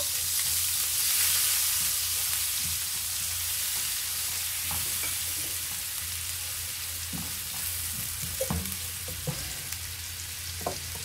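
Chopped onion frying in a pan of butter with a little oil on the stove, a continuous bright sizzle with occasional stirring clicks and scrapes of a spoon, close and steady throughout.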